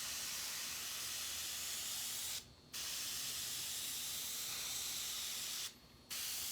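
An airbrush gun spraying paint onto a hoodie gives a steady, close hiss, broken by two short pauses as the trigger is released.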